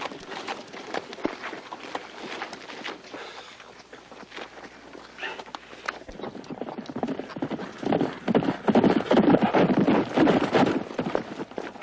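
Horses' hooves clip-clop on hard ground, a rapid uneven patter that grows louder and busier in the second half.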